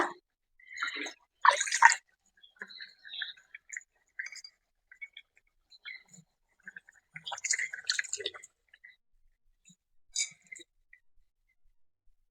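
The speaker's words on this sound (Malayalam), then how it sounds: "കുറച്ച് വെള്ളം കൂടെ ചേർത്ത് കൊടുക്കുക." Water splashes into a pan of potato masala curry in short, separate pours with quiet gaps between them, close by and fairly soft.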